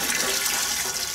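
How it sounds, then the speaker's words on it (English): Water pours steadily into a cooking pan set over a fire, partly filling it before steaming parboiled paddy rice; a short, continuous, close rush. "Place the cooking pan on the fire and partly fill it with water."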